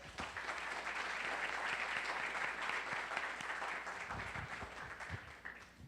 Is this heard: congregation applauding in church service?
yes